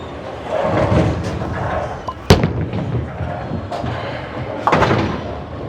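A Hammer Bubblegum Vibe bowling ball thrown down the lane at the pins for a spare, with a rolling rumble followed by a sharp crash of pins and a second clatter, amid loud bowling-alley ambience.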